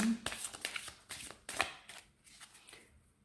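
Playing cards being shuffled by hand for an energy reading, a quick run of riffling snaps and soft slaps close by, with faint background noise.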